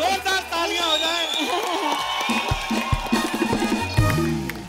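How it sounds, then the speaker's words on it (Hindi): A studio audience on a Hindi television comedy show applauds and cheers to welcome guests, a dense wash of clapping and whoops rising over music and mixing with a host's voice throughout. "जोरदार तालियां हो जाएं।"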